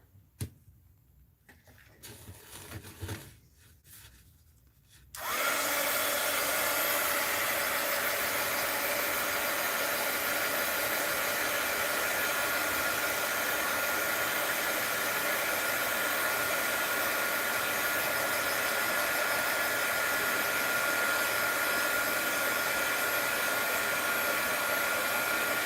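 A hair dryer blasts air over a doll, starting after a few seconds of faint handling noise and then running as a loud, steady whoosh that continues unbroken to the end.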